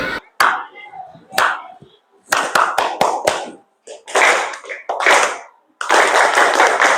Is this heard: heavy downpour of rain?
no